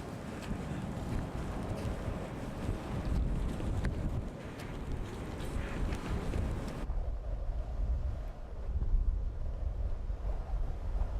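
Wind blows steadily near a mountain cabin on Mont Blanc in sub-zero cold, a continuous, rough rushing roar buffeting the microphone that drops partly away for the last few seconds.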